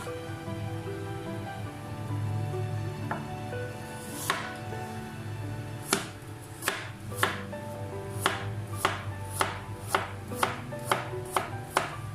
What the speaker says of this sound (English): chop the apple into small pieces